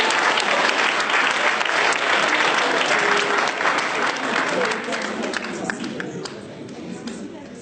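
Church congregation applauding loudly and steadily, with cheers and voices mixed into the dense clapping, which gradually thins and softens toward the end.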